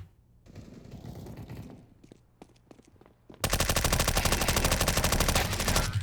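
Automatic rifle fire in Counter-Strike: Global Offensive during a competitive match, starting with scattered shots and movement noise, then breaking into a loud, continuous rapid burst that fills the second half.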